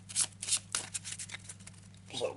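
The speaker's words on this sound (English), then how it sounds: "So, quick shuffle." A deck of Arkham Horror board game cards is shuffled quickly by hand, with several crisp riffling bursts in a row, close and moderately quiet, and no talking over it.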